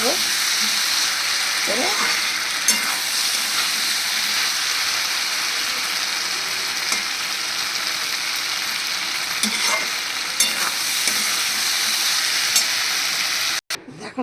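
A potato curry fries in a pan with a steady, loud sizzle while a utensil stirs it in occasional scraping strokes; a brief word is spoken once.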